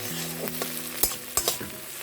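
Spices and tomato sautéing in a pan for a spicy Maggi noodle dish, with a low steady sizzle broken by a few sharp scraping stirs of a spoon against the pan.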